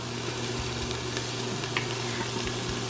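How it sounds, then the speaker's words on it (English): Chopped vegetables for chicken noodle soup sizzle steadily in a pot at moderate volume, with faint occasional stirring clicks and no voices. "I'm gonna stir these up real quick because we're gonna cook these down."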